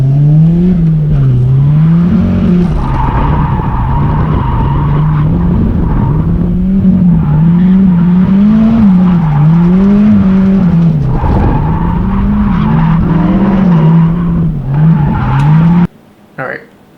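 A drift car screams through a run of turns at full speed, engine wailing and tires squealing in long, loud bursts that rise and fall with each shift, with a brief pause near the end.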